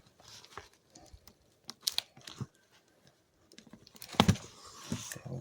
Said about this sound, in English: This collar got to be cut off.